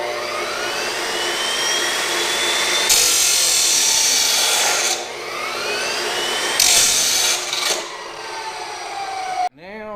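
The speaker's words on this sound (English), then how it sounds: "right now I'm going to cut these up with this chop saw" A chop saw cutting pieces of sprayer arm, its motor whining steadily with two loud bursts as the blade bites through, then spinning down near the end; the saw is close and loud, with no talk.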